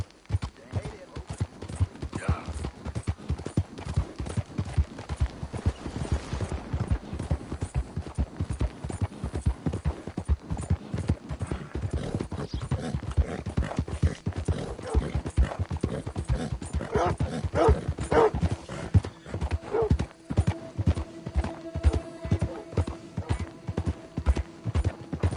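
Horse hooves clip-clopping steadily and close in a PS4 video game, a continuous rhythmic trot with a few louder thuds and faint background tones toward the end, no speech over it.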